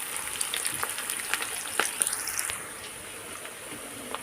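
Onions frying in a pan with marinated chicken, a soft steady sizzle with scattered crackles and a few stirring scrapes, close and fairly quiet, with no talk.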